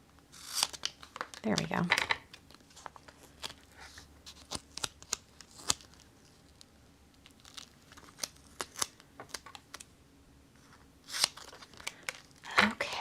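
Paper being snipped with scissors during card crafting with relief paste and embossing folders, scattered crisp cuts and crinkles close by, with someone talking over much of it.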